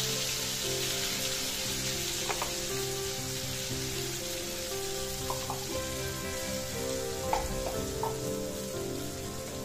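A paste of mustard, poppy seeds, green coconut flesh and green chili fries in oil in a kadai for dab chingri, producing a steady, close hiss dotted with small pops.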